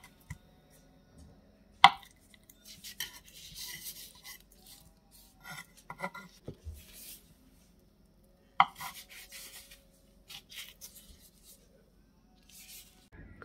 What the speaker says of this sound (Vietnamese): Cắt miếng miếng vậy nè.